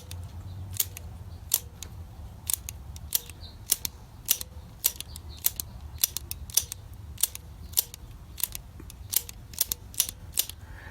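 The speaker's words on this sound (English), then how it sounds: "She's switching really nice, and she's got a good clack to her." A Zenith 7G605 Clipper radio's band switch clacking repeatedly, sharp close mechanical clicks in an uneven series over a low background hum, without talk.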